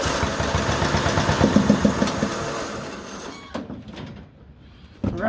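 A lawn mower engine that won't start is cranked over and over, a dense mechanical churning that sputters out and drops low, then kicks up again sharply at the end.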